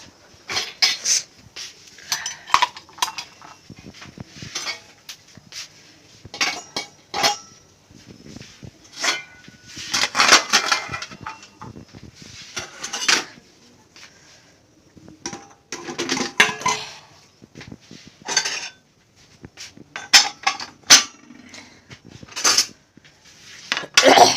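Dishes, pots, pans and cutlery being washed and put away after dinner at night, with repeated clinks, clatters and knocks in irregular bursts, fairly close and without talk.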